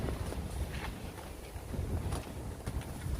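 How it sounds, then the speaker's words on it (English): Steady wind buffets the microphone with a rough, rumbling roar at an outdoor carp fishing spot in late summer, gusting slightly louder at moments, and no voices. "Oh, it's windy."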